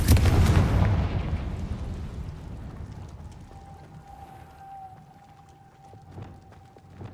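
A Confringo fire spell bursts in Hogwarts Legacy, opening with a loud, deep explosive boom that slowly decays into a rumbling tail, followed by a quieter lingering magical tone and faint ambient effects.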